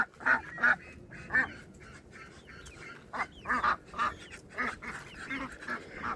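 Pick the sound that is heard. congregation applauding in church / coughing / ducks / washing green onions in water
ducks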